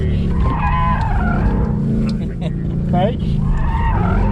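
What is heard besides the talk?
Ford Mustang tires skidding during drift mode test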